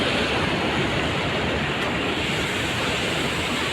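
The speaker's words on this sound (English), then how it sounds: "I can't tell you the force of the water, but look at it" Water from a private waterfall near Ambasamudram, Tamil Nadu, roars in a dense, steady rush, loud and close with no break.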